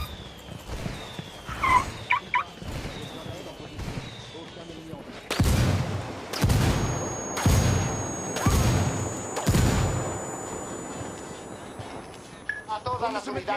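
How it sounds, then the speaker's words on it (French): An artillery barrage in the video game Ghost Recon Wildlands, four or five heavy booming impacts in quick succession following quieter beeps and chirps, with radio voices and game sounds in the background. "Je demande un tir d'artillerie."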